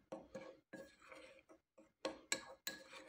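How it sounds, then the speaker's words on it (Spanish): Flour and salt being mixed in a bowl, heard as a series of light clinks and scrapes of a utensil against the bowl in irregular close strokes, fairly quiet with short pauses between. "Luego mezclamos bien la harina con la sal."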